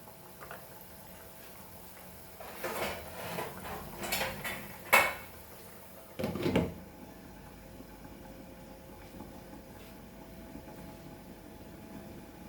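A metal lid is set over a pan of Goan pomfret curry, making a few clattering clinks and scrapes, then the kitchen falls to a quiet low hum.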